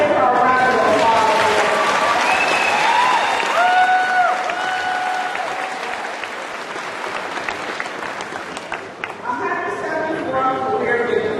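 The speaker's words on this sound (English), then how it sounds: "Let's give her a round of applause." Graduation audience at Calumet New Tech High School applauding a honored basketball coach, a dense steady clatter of clapping with some cheering running the whole time, loud and close, fading slightly midway before swelling again.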